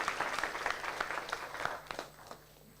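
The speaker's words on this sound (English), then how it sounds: "A big round of applause" A small audience at a live meet-and-greet applauds an artist-turned-entrepreneur, scattered distinct claps close by that thin out and fade within a few seconds.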